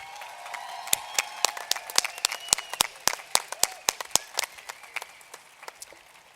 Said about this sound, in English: Graduates, can you give them a big thank you round of applause?